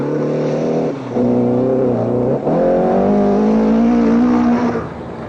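A rally car at the 1982 Safari Rally in Kenya revs hard as it drives through mud, its engine note rising and dipping in steady bursts, loud and close, with no voices.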